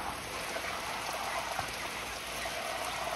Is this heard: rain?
yes